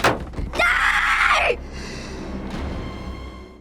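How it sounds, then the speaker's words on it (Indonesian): A boy screams in terror in a scene from the horror film A Quiet Place Part II, a loud, sustained shriek of about a second after a sharp impact, fading into low rumbling background sound. "Melihat ayahnya diserang, sontak Markus berteriak"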